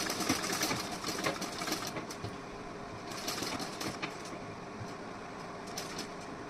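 A sewing machine stitches a decorative neckline design in a continuous, even hum with a faint rhythmic needle patter, close and steady throughout.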